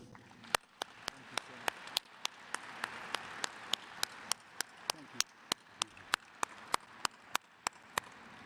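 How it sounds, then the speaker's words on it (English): Applause for the faculty at the 2021 University of Cincinnati College of Law graduation: steady, evenly spaced sharp claps from one close clapper over a faint, soft wash of wider clapping, quiet overall and lasting several seconds. "please join me in showing our appreciation to the faculty with a round of applause"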